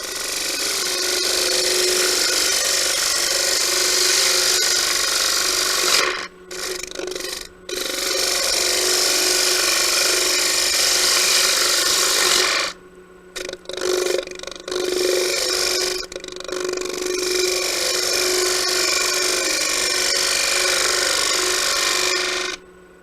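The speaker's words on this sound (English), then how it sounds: "Same bowl gouge I've been using all along. Gentle push cut." A bowl gouge makes gentle push cuts into a spinning bowl on a wood lathe, a loud, steady rasping hiss that breaks off briefly a few times and then resumes.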